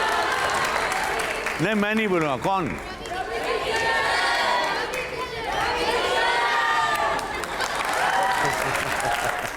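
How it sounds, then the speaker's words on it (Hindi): A studio audience at a televised interview show claps and cheers in a loud, sustained burst, with shouting and chatter from the crowd and someone speaking over the noise. "जोरदार तालियां हो जाए"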